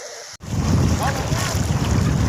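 Strong sea waves breaking at a bay shore in the early morning, a loud continuous surf wash with wind buffeting the microphone and a brief sharp cut near the start.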